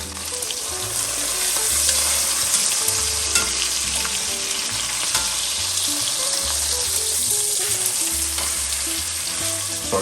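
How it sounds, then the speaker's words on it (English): Pot roast meat sears in a hot pan, a loud, dense, continuous sizzle close by with faint scraping underneath and no voices. "We're just searing it off, sealing in the juices"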